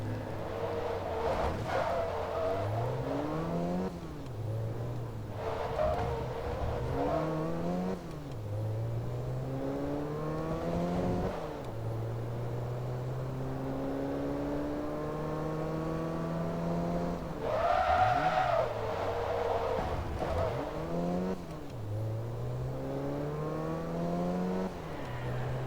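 Race car engines in Forza Motorsport 2 rev repeatedly through the gears, rising whines broken by shifts and downshifts, with a faint tire squeal in a steady loud drone.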